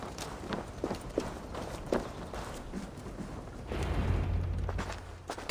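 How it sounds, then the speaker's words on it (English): Horse hooves clip-clop on the ground in the Viking-era game Assassin's Creed Valhalla, a string of separate steps that are fairly close and moderately loud, followed by a low rumbling wash near the end. "Bring the horse over to the hitching post"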